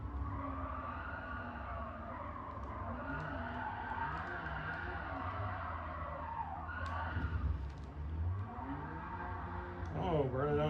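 A Porsche with stock weight and tires but about 250 more horsepower does a burnout, its engine revving hard and steadily while tires skid and squeal, loud and close, with voices talking over it.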